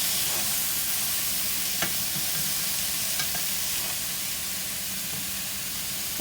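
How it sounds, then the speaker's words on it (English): Beef kebab frying in a pan without added oil, giving a steady close sizzle and hiss with occasional small pops throughout, no talking. "I don't have to add any oil because we will get oil from the beef once we fry it."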